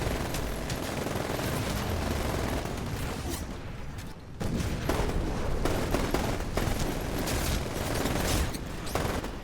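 SMG fire in the shooter game Titanfall, dense rapid bursts crackling almost continuously at close range with a short pause midway and mechanical clicks.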